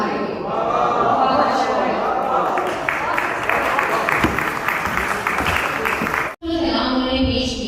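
Audience applause at a mushaira, a Pakistan Day Urdu poetry gathering in Sharjah: dense, sustained clapping from a seated crowd fills the hall and cuts off abruptly near the end, with scattered voices and a speaker heard alongside.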